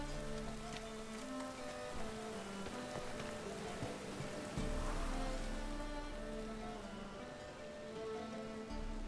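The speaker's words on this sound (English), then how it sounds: "Looks like rain" Rain in the video game The Witcher 3: Wild Hunt, a quiet, continuous patter of drops on surfaces with a faint low rumble beneath, steady throughout with no voices.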